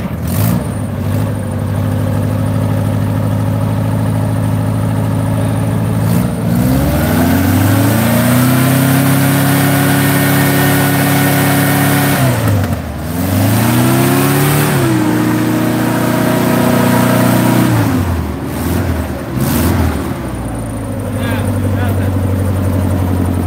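A homemade hovercraft engine revs loudly up and down, rising and falling in several surges with brief dips between them, while voices are heard over it.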